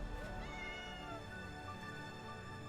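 A black cat meows in the animated film Flow, voiced over a rich, steady orchestral score that runs throughout at moderate loudness.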